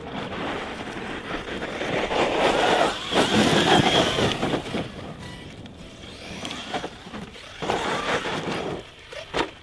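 An Arrma Fazon 6S BLX RC car on 6S power with a 17T pinion and stock tyres drives over gravel, giving a steady loud rush of motor whine and crunching stones that surges and eases as it runs.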